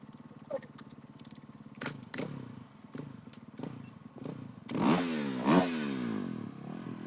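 A KTM 450 rally motorcycle idles and blips its throttle at the start line of the Abu Dhabi Desert Challenge prologue, a rough, burbling engine that swells into a few louder revs near the end.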